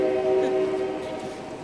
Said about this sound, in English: Is that a train nearby?